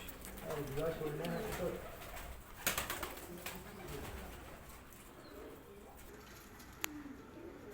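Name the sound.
pigeons cooing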